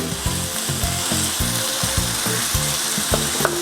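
Ground beef frying in a pan for giniling, loud and close. A constant sizzle runs under repeated rhythmic scraping and stirring knocks as the meat is broken up, with no voices.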